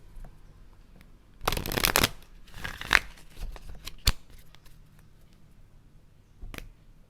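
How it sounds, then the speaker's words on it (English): Cards are riffled and shuffled in a quick crackling burst, followed by a few sharp taps and slides of cards, close by in a quiet room. "Okay, one more shuffle, loves."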